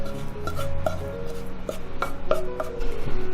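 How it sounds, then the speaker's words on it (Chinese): A cleaver chops pork belly into mince on a board, giving several sharp, uneven knocks close by over a faint background hum, with no talking. "再来把五花肉切小块，打成肉末。"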